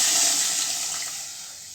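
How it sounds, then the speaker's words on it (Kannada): A spoonful of water is poured into a pan of drumstick sambar while it cooks, a steady, fairly loud watery rush and hiss that fades slightly over under two seconds. "ನೋಡಿ, 1 ಚಮಚ ನೀರು ತಗೊಂಡಿದ್ದೀನಿ,"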